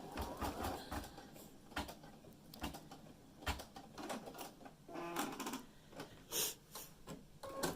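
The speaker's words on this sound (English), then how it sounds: "It's going to stitch the first one, which will be the placement stitch, right there." Home embroidery machine running a placement stitch in the hoop while making a fabric eye mask, a quiet irregular mechanical clatter with rapid ticking bursts and brief pauses, no voices.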